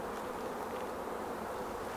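Honeybees buzz steadily as a box of them is set down into a hive, a dense, close, continuous drone without any talk.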